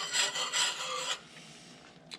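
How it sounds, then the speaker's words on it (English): Whisk scraping rapidly through cream cheese melting into a mac and cheese sauce in a pan, a close, steady rasping that stirs for about a second and then drops away to near quiet. "We're just going to go ahead and whisk that in. And keep whisking it until it's melted down."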